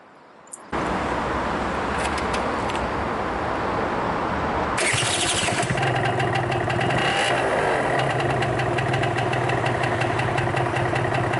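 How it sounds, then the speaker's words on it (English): A 2015 Vespa Primavera 50cc two-stroke scooter starts with a sudden catch, settles into a buzzy idle, then revs up sharply and holds a louder, raspy higher-pitched drone, close by and alone. "There we have our two-stroke engine."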